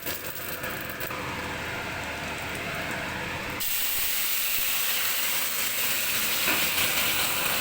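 Cumin, a dried red chilli and radhuni fry in hot oil in a home kitchen, producing a continuous broad hiss that shifts in tone partway through and keeps sizzling steadily to the end.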